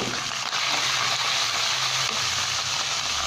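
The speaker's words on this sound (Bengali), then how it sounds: "এটা দিয়ে ভালো করে কষিয়ে নিতে হবে মশলাটা" Ginger paste, salt, turmeric and spices sautéing in oil in a pan for aloo dum, a steady close hiss of frying with light scraping and stirring throughout.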